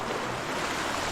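A river in a forest flows steadily with a broad, continuous rushing wash of water, close and even throughout with no voices.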